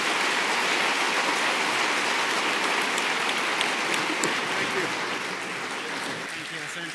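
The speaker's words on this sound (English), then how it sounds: "let's have one big round of applause for this great man" Sustained applause from a crowd at a leaders' dialogue event in Kigali, a dense wash of many hands clapping at steady loudness that eases off slightly toward the end.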